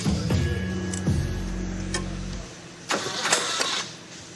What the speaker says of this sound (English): So I decided to get the jump box and see if this thing would break loose, crank over, or do something.